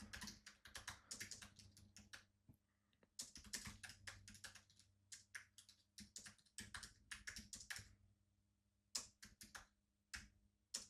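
Fast bursts of typing on a computer keyboard, close and crisp, with clustered keystrokes broken by short pauses and a longer gap near the end.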